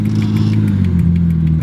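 A Mazda Cosmo drift car with a swapped RB20DET engine revs up, its exhaust giving a loud, close, droning burble that climbs slightly in pitch over a short burst.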